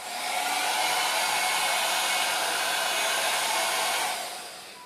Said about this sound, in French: Donc là, je viens de faire fonctionner un sèche-cheveux.